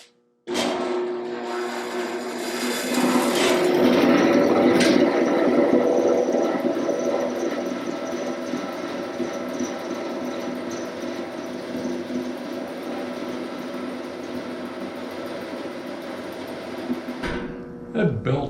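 A shop-built machine with a belt-driven blade runs steadily with a wobble, giving a continuous whirring hum that starts abruptly, holds for about fifteen seconds and cuts off near the end.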